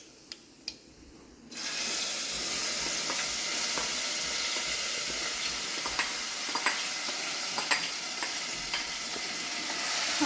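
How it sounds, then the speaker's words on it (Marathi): Cumin, mustard seeds and ground masala hitting hot oil: after quiet clicks a loud sizzle bursts in and holds steady, dotted with small pops and crackles up close. "आता आपण अर्धा चमचा जिरे, अर्धा चमचा मोहरी आणि हा मसाला टाकूया"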